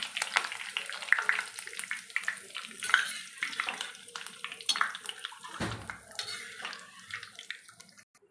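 Ribbon pakoda frying in boiling oil with curry leaves dropped in, a close, busy bubbling crackle with scattered pops, fading toward the end, with a low voice briefly underneath.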